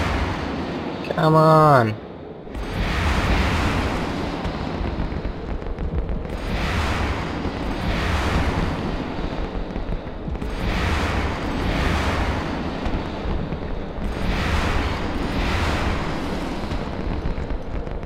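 Spaceship weapons firing in the EVE Online video game, a rhythmic series of deep, rumbling blasts repeating every few seconds over a steady background hum, with a brief voice near the start.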